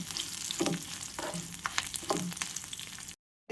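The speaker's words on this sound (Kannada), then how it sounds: "ಈಗ ಇದಕ್ಕೆ ಜಜ್ಜಿಟ್ಕೊಂಡಿರುವಂತಹ ಬೆಳ್ಳುಳ್ಳಿಗಳನ್ನು ಸಹ ಹಾಕ್ತಾ ಇದ್ದೇನೆ. ಹಸಿ ವಾಸನೆ ಹೋಗೋ ತನಕ ಕುಟ್ಕೊಳ್ಳಿ." Crushed garlic fries in a hot pan with a steady, dense sizzle and some stirring scrapes throughout, loud and close, cutting to silence near the end.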